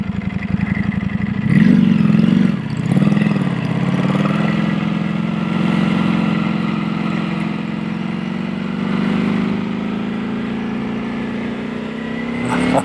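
A Ducati motorcycle engine drones steadily while riding along an open road behind a line of cars, a close, continuous mid-pitched hum with a brief rev near the start and no talking.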